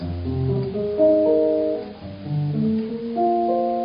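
Clean electric jazz guitar plays a slow sequence of sustained chords voiced in fifths, each ringing out before shifting to the next, with no voices.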